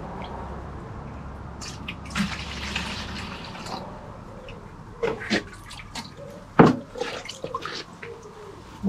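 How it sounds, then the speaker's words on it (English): Water pours into a watering can for a chafer grub soil treatment, a steady running trickle under a few clunks and knocks of the can being handled nearby, with a sharp bump near the end. "fill the watering can now"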